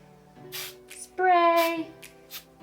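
Short hissing bursts of hairspray misted onto the front of a ponytail, a few quick sprays over steady tonal music in the background.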